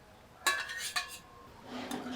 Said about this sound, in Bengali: এখন মাছগুলো নেড়ে সবজির নিচে দিয়ে দিই